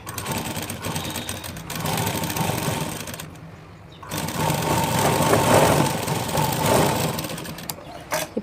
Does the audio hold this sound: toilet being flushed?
no